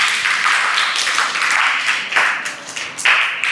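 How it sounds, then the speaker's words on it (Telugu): An audience applauds students with loud, dense clapping that carries on steadily in a crowd, close and busy. "Give them a big clap."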